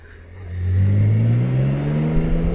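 BMW K 1600 GT six-cylinder motorcycle engine revving up, a smooth rising tone that climbs steadily and holds loud and near, with no talking.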